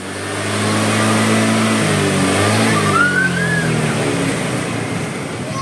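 A car engine revved during a battery voltage check, a steady mid-pitched engine drone rising in pitch as it revs, heard close and fairly loud.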